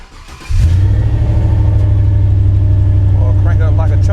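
A 1987 Monte Carlo SS V8, left sitting with low, evaporated fuel, cranks briefly and fires up within half a second, then settles into a loud, steady, rumbling idle close by, with a voice speaking near the end.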